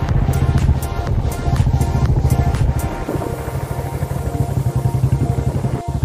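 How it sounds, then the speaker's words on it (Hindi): A motorcycle carries two riders along a hilly road, its mid-pitched engine running continuously and close, with rattling clatter and a steady rumble. "बाइक पर हम दोनों हो गए सवार और चल रहे हैं यमुना मैया की तरफ"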